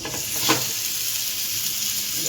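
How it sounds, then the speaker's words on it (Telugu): Pieces of meat frying in hot oil for fry piece biryani make a continuous close, loud sizzle with a brief stir scrape near the start, no voices. "ఇప్పుడు ఇదంతా ఫ్రై చేసుకొని ఒక్కొక్కటి పీసు ఫ్రై చేసుకోవాలి."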